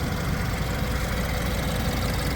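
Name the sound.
BMW 228i 2-liter turbocharged 4-cylinder engine idling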